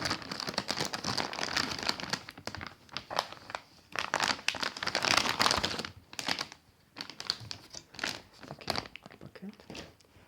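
Close, crackly crinkling of a thin antistatic plastic bag holding a motherboard being handled, in irregular bursts with brief pauses between.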